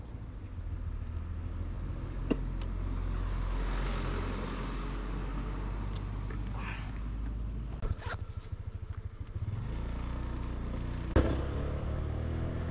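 A tricycle speeds away along a road, a steady rumbling engine-and-road drone that fills the whole stretch, with a few sharp knocks and rattles on top and no voices.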